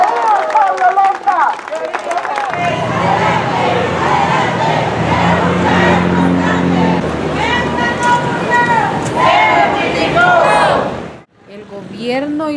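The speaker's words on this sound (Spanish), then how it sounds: "un aplauso grande y un ¡viva! ¡Viva! ¡Viva el pueblo lenca!" A large crowd at an Indigenous Lenca rally applauds and cheers, a dense, loud wash of clapping and shouting that swells and continues for several seconds before cutting off abruptly, with voices over it.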